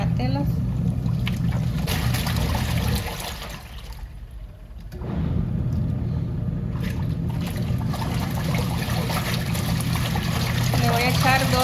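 A Mabe 13 kg semi-automatic washing machine, running without its hose, churns clothes in water with a continuous sloshing, swishing agitation that dips briefly midway, and a person talks over it.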